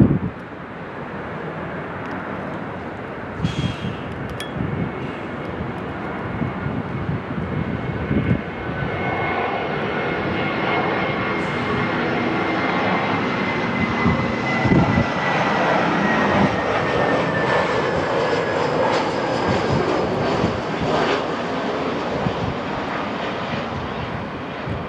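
A fixed-wing airliner lands on runway 24 right at Los Angeles International Airport, its engines a loud, sustained roar that slowly shifts in pitch, heard from nearby with wind noise on the microphone.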